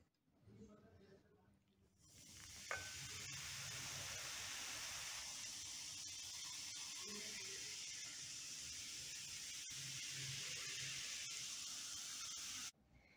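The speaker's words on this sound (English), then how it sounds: "We see bubbles and hear a hissing sound." A soft voice murmurs briefly, then a steady broadband fizzing hiss from vinegar mixed with baking soda swells up and holds evenly for about ten seconds before cutting off.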